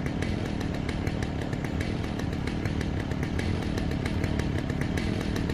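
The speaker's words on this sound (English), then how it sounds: "He had a chainsaw?" Chainsaw revving continuously in the video game Alan Wake, a loud, steady buzzing engine roar with rapid rhythmic pulses, close and dominant with no talking.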